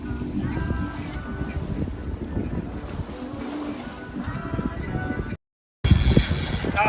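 Sailboat under way in about 10 knots of wind, with steady wind rush, water washing along the hull and microphone buffeting, continuous at moderate level with a brief dropout near the end.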